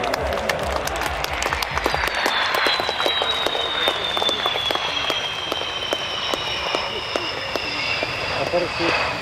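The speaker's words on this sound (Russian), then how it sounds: "Аплодируем!" Audience clapping at the MAKS 2005 air show rings out for the Su-30MKI display crew, a steady patter of many hands over the drawn-out whine of a jet passing overhead, with a voice over the crowd.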